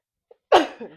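One sharp sneeze bursts out close to the mic after a brief tiny intake, followed by a short trailing exhale, with no talk around it.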